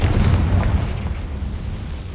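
A Confringo blasting spell explodes in the Hogwarts Legacy video game, giving a deep, booming rumble that starts loud and slowly fades over about two seconds, with no talking.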